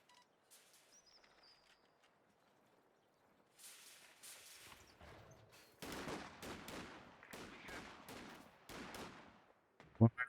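Gunfire in a strategy game battle: clusters of faint rapid shots and crackling bursts building from the middle onward, with a sharp loud crack at the end, under quiet talk.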